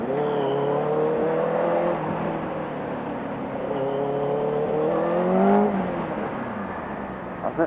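A 2018 Benelli 600i ABS motorcycle engine revs and eases off while riding, its four-cylinder drone rising and falling in pitch in repeated sweeps, loud and continuous with wind noise around it.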